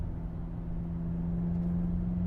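Twin-turbo V8 engine of a 2015 BMW X5 M droning steadily from inside the cabin, a constant low hum with a held tone and no clear gear change.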